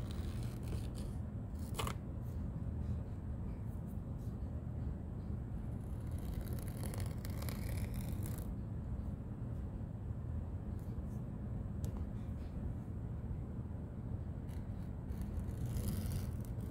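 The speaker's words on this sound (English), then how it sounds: "Okay, so now I'm going to cut this out." Clay being cut out into a shape for a geometric tray, giving soft scraping and snipping sounds over a steady low background hum, with a few brief sharper clicks and no talking.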